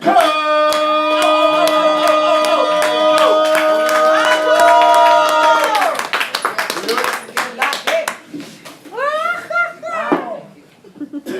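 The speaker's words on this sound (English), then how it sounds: "please keep that applause going for Cappy" Audience applause at a poetry slam in Orlando: dense, loud clapping from a crowd with cheers on top, fading after about six seconds into scattered claps as a host speaks.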